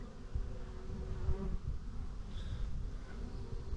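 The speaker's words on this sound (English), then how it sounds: "And I got them buzzing around me." Honeybees buzz steadily around a beekeeper in a bee yard, a continuous near humming drone with no talk.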